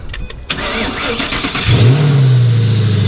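A Ford GT500 5.4-litre supercharged V8 cranks with a few quick starter pulses, then catches and swells into a loud, deep, steady rumble up close.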